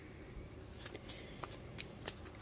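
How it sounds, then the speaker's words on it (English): Deck of cards shuffled by hand for a Christmas Eve yes-or-no reading, giving several quick riffling bursts in a row at close range under a quiet room. "So I'm just going to give them a shuffle."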